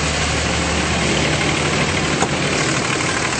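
A 2007 Dodge Ram 3500 with a 5.9L diesel engine idles steadily under the hood, a loud, close, continuous clattering rumble with a faint knocking rhythm throughout.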